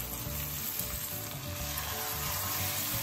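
Chopped onion and tomato with green chilli and grated ginger fry in oil for dhaba-style aloo baingan bharta, giving a loud, continuous, close crackling sizzle with a low background hum underneath.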